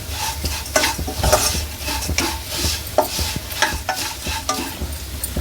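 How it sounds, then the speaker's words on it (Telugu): Flattened rice (poha) frying in ghee for a sweet payasam, stirred briskly with a utensil scraping the pan in a repeated rhythm over a soft sizzle, close and fairly loud. "అటుకులు నేతిలో వేయించేసి"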